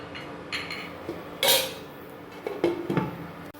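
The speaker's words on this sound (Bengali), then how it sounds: "তো এটা এখানে এখন ঢাকা দিয়ে দিচ্ছি।" A lid is set on a cooking pot of vegetable stems, making a sharp metallic clank with smaller knocks and scrapes of cookware before and after. It sounds close, with no talking.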